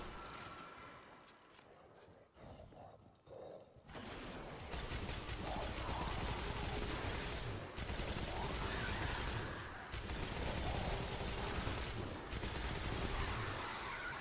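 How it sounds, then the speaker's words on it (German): A minigun in the video game Destiny 2 spins up after a brief quiet stretch, then fires in a dense continuous mechanical rattle that stays loud and sustained, with a few short pauses. "Eine Minigun, wie man sieht. Also die geht schon ganz gut ab."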